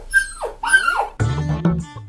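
A dog yelps and whimpers in rising, pitch-sliding cries, then gives a rougher bark-like burst, loud and close.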